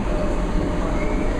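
Low, steady rumble of a train idling or rolling slowly beside a London station platform, a continuous mechanical drone with no talking.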